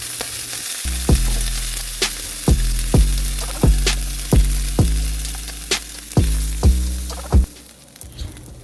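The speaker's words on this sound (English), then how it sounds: "slightly fry the pork meat that was cut up from the boiled" Chopped boiled pork hock meat frying in a pan, a continuous close sizzle punctuated by about a dozen sharp scraping knocks of a utensil stirring against the pan at a steady rhythm.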